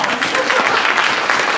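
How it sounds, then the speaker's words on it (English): Applause from an audience after a song, a dense, steady patter of many hands clapping, fairly close and filling the whole moment. "I think there's some applause."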